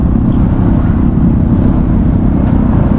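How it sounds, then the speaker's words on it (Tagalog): Dense road traffic on a rough, muddy road under construction near the Kaybiang–Talisay area, heard from inside a vehicle as a loud, continuous low rumble of engines and tires without pause. "Grabe traffic dito."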